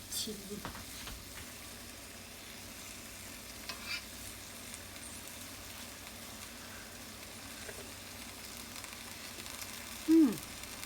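Semi-instant Korat noodles stir-fried in a pan give a faint, steady sizzle with occasional soft scraping stirs, and a brief louder clink near the end.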